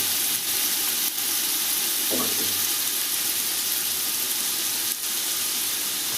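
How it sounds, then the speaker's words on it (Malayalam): Onions frying in freshly poured oil for a chicken biryani masala, a steady close hiss of sizzling that runs throughout, with a brief clatter of stirring near the middle and no talking. "ഇപ്പോൾ എണ്ണ കൊഴിച്ചതാ ഉള്ളി കൊടുത്തിട്ടുണ്ട് ഒന്ന് വാടട്ടെ"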